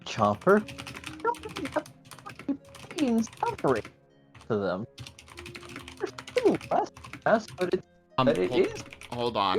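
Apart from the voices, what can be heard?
typing on a computer keyboard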